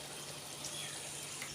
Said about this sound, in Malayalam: ഇനി മിക്സി ബൗളിലേക്ക് തന്നെ കുറച്ച് ചൂടുവെള്ളം എടുത്തിട്ട് നമുക്കിതിലേക്ക് ഒഴിച്ചു കൊടുക്കാം.